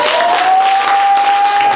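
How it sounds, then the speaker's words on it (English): Church congregation clapping their hands during worship, a steady dense wash of applause from a crowd filling the whole stretch, with a sustained tone ringing through it. "clap your hands and give the Lord some praise"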